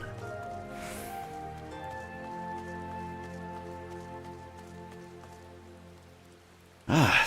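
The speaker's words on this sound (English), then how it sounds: "Ah, some rain." Rain falling in Final Fantasy 14, a steady soft wash of drops running beneath in-game music tones, with a louder burst of voice near the end.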